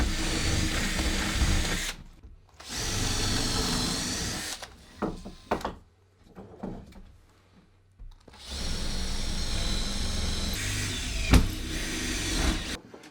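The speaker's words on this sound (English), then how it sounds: "The next thing is going to be drilling holes into all this and joining them with" A power drill bores holes into the parts of a homemade Halloween skeleton prop, running in two long continuous whirring bursts with shorter stop-start runs between them, loud and close with no talking.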